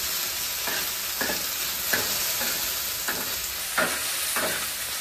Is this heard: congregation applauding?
no